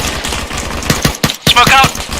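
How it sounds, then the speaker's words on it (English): Heavy machine gun fire hammers in ARMA 3, a loud, steady stream of rapid thumping rounds, with a voice calling out over it. "HMG at the crossroads lighting us up."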